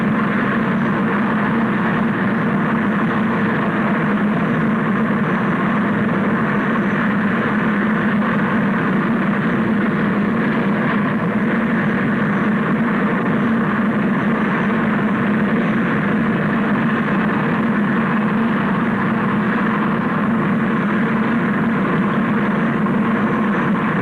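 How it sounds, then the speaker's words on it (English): Military helicopters with engines running, a steady loud low drone and broadband roar holding unchanged throughout, with no talk over it. "now prepare to move off in the helicopters"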